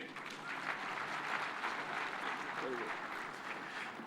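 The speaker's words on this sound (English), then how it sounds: "Another round of applause for Senator Kajwang," Audience applause at a Devolution Conference in Homa Bay County after a senator's speech, a steady, dense wash of clapping from a large crowd that fills the whole stretch at moderate level.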